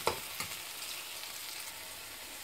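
A spiced masala with mint leaves and green chili sizzles steadily in a pan, with a couple of soft stirring scrapes near the start over a continuous frying hiss.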